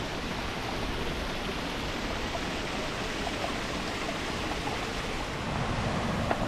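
Steady rushing water from a small waterfall and mountain creek on the Rainbow Falls Trail, Great Smoky Mountains, fills the scene, a constant broad roar with no voices.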